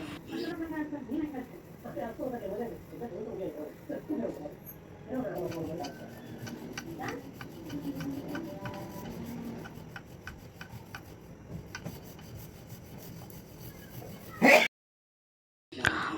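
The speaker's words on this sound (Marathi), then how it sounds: "नंतर त्याचे गोळे करून आपण लाटून घेऊया." Methi paratha dough is rolled out with soft, steady rubbing and scraping strokes against a board. The sound is quiet and close, with a brief sharp knock near the end.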